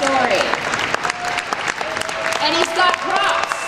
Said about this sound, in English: please give Mr. Riley Timmer a round of applause